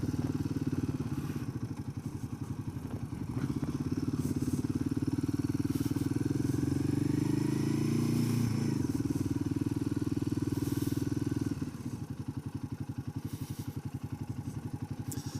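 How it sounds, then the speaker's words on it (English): A 2024 Royal Enfield Himalayan 450 motorcycle engine runs steadily with a close, throbbing mid-pitched drone and light clatter, then eases to a softer, lighter tone near the end. "So that's the 24 Himalayan 450. Very promising bike."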